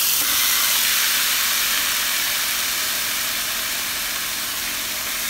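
Grated apples sauté in a teaspoon of ghee in a pan for apple kheer, producing a loud, steady, unbroken hiss of sizzling with no other sounds.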